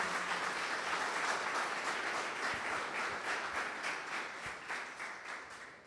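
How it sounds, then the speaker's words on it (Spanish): A church congregation applauds with dense, sustained clapping that carries on for several seconds at an even level, then slowly thins, heard from within a large room. "Vamos a darle un aplauso."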